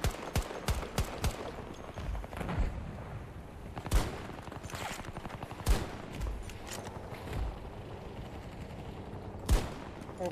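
Rapid bursts of Battlefield 2042 gunfire crackle in quick rattling volleys, with a few louder sharp shots standing out, amid a busy multiplayer game soundscape with no talk.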